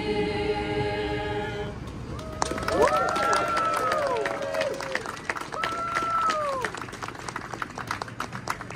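An outdoor crowd at a Victorian Christmas tree lighting ceremony applauds carol singers, sustained clapping and cheering after the last sung note, with a voice and musical tones over it.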